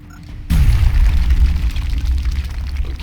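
A grenade blast blows open a wall in XCOM Long War, a sudden loud boom followed by a heavy rumbling roar of debris that lingers and slowly fades.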